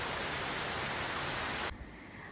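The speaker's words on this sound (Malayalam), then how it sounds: "പുറത്താണെങ്കിൽ നല്ല മഴ പെയ്യുന്നുണ്ട് കേട്ടോ" Heavy rain falls outside as a dense, faint, steady wash of noise that cuts off abruptly near the end, leaving a quieter background.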